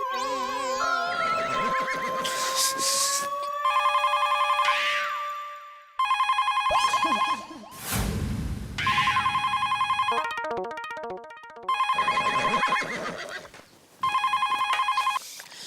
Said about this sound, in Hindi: बदले हुए सिम कार्ड से ही मैंने सुंदर को फोन ठोक दिया